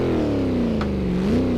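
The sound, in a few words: Shelby Cobra engine revving in Assetto Corsa video game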